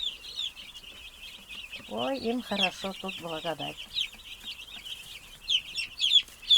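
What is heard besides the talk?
broiler chicks peeping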